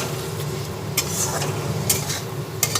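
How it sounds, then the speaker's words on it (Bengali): Spices frying together in a pan for an egg curry in yogurt, a steady hiss and sizzle with a few sharp metallic clinks of stirring, close and moderately loud, with no talk. "এরপরে আবার সব মশলা একসঙ্গে ভেজে নিচ্ছি"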